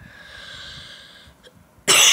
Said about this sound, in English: I told you just now I coughed a lot